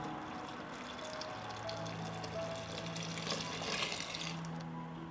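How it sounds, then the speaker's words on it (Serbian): Two litres of water poured into freshly ground peach juice in a kitchen pot, a steady close splashing and trickling stream running for the whole stretch without talk. "zatim dodajem 2 litre vode u ovaj sok"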